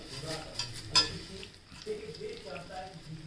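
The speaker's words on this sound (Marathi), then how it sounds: "त्या पापडाचा चुरा तेलात परतून घ्यायचा" Crushed urad papad fries in oil in a pan while being stirred, making soft scraping and faint sizzling that rise and fall, with a few louder utensil knocks.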